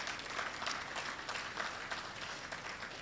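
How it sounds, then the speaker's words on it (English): Graduation audience at an auctioneering college giving a round of applause, a dense, steady patter of many hands clapping at moderate distance, fairly faint. "So let's give a big round of applause for Vicky,"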